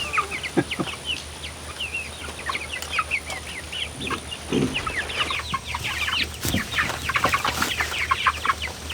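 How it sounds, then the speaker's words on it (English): In a greenhouse, a flock of chickens clucks and chirps continuously, many overlapping calls building slightly toward the end, with a brief wing flutter and no speech. "They're just chickens."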